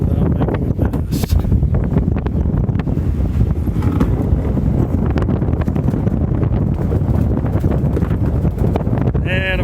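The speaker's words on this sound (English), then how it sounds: "it's getting windy" Strong wind buffets the microphone on a sailboat deck, a loud continuous roar with gusty rumble throughout, close and unbroken, with a faint tonal sound near the end.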